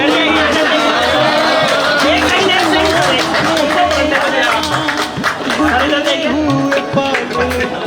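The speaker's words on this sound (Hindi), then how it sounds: "सभी साथी सर पहले में जोर से तालियां बजाएंगे।" Teachers at a school retirement ceremony for a Hindi lecturer clap amid lively chatter and crowd babble, with the applause steady under overlapping voices throughout.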